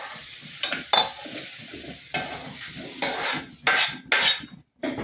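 Brinjal sizzles and crackles in a hot pan, broken by several sharp bursts of frying as it is stirred.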